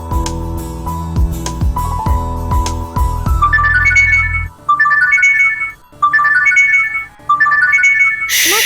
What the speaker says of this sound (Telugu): ఫోన్ వస్తుంది, ఊరుకోండి